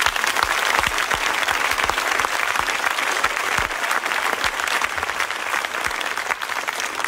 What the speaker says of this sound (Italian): quindi un altro applauso